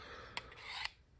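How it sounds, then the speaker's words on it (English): A Utica USA knife edge honed lightly to remove scratches, soft continuous rasping with a few brief sharp scraping strokes, quiet and close, alone without talk. "Right now, I'm just trying to hone the edge to get some of them scratches out."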